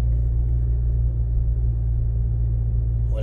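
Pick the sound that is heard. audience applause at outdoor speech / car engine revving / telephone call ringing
car engine revving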